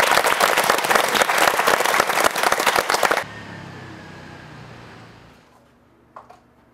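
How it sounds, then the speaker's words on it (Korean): Studio audience applause at a Korean broadcast special fills the room with dense, loud clapping for about three seconds, then cuts to a quiet low hum with a faint thump near the end. "박수로 만나보시죠."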